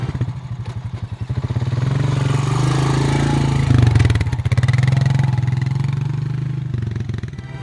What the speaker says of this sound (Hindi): तभी उन्हें स्कूटर के चलने की आवाज सुनाई देती है।